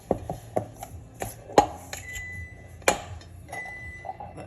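Homemade pie crust dough being blended and stirred in a bowl, heard as scattered sharp knocks and clinks of the utensil against the bowl, spaced irregularly with quiet gaps between.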